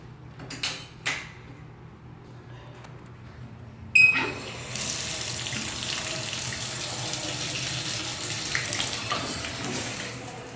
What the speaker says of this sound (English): Shower head works.